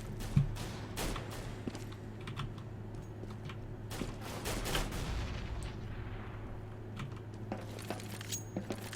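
Pistol gunfire in Counter-Strike: Global Offensive during a Copenhagen Games 2013 match, heard as scattered sharp cracks and clicks over a steady game background hum, with no one talking.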